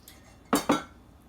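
A metal pan of boiling broth and gravy is handled, giving two quick clanks of metal cookware close by, spaced a split second apart, against quiet kitchen background.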